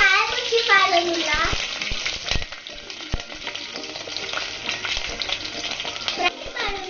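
Onions frying in coconut oil in a home kitchen pan, a steady loud sizzle with frequent clanks and scrapes of stirring; a voice chirps faintly at the start.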